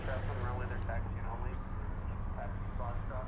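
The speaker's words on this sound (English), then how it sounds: "This is flight 132 off to Dublin, the 777-200." A Boeing 777-200 airliner on flight 132 to Dublin at DFW airport at night gives a steady low engine roar, with a person talking over it.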